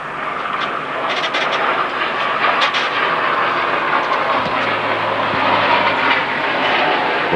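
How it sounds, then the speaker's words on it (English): A fixed-wing airplane passes overhead near Christchurch International Airport during an outdoor lawn bowls match, a loud steady jet roar filling the scene with faint clicks beneath it. "Lawson not put off by the plane going over the top."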